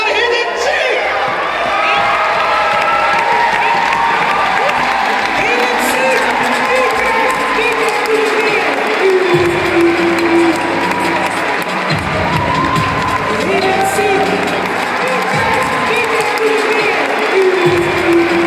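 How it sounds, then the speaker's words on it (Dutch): A loud crowd at a youth arts festival DJ contest cheers, whoops and applauds the winner, shouts and clapping rolling on continuously with voices rising above the din. "Geef me een warm applaus voor"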